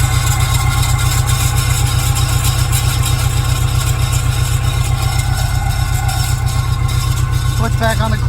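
A 1970s-era Pontiac Fiero fitted with a Quad4 engine runs in gear with its wheels spinning, giving a loud, steady, close engine drone with a few brief knocks near the end.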